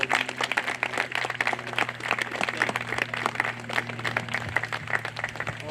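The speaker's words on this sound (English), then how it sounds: "Let's give them all a round of applause." Applause from family and guests at an outdoor Eagle Scout Court of Honor: dense, steady clapping from a group that holds at an even level throughout, with a low steady hum underneath.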